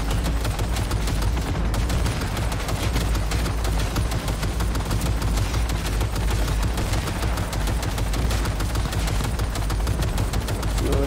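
Dense, continuous automatic gunfire from turrets in the video game Cyberpunk 2077, loud and sustained throughout with rapid overlapping shots and booming low end, no talk.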